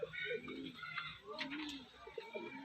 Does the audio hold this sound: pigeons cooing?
yes